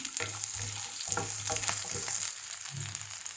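Small shallots fry in hot oil with urad dal, a dense, steady sizzle and crackle close at hand, with a few soft stirring scrapes and no voices.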